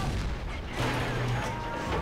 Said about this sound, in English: All these shells are bouncing.